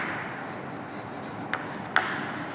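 A marker or chalk draws a shape on a classroom board, with faint rubbing strokes and two short sharp taps over quiet room tone.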